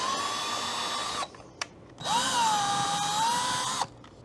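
A power drill drives screws into a wall stud, two loud close whirring bursts with a short pause between, the second rising and wavering in pitch before cutting off.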